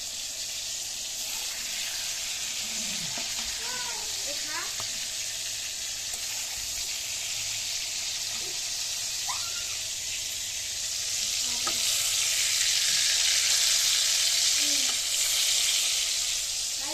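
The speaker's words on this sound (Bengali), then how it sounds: "সব ঝিঙে ভাজা হয়ে গেছে।" Ridge gourd slices sizzling in hot oil in a pan, a constant close frying hiss with scattered stirring clinks and scrapes, swelling slightly louder toward the end.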